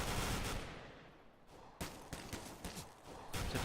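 Rifle fire during a Counter-Strike tournament match, scattered bursts of shots at low volume with short gaps between them.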